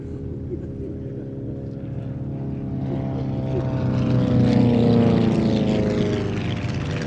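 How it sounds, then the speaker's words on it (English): Two small race planes, a Monnett Sonerai with a small VW engine and a Cassutt 111M, fly past at an air race day: a steady propeller-engine drone that swells louder as they approach, then eases slightly. "Following it, we've got a newcomer to race day, the Monac Sonoray, and the rather more familiar Casut 111M."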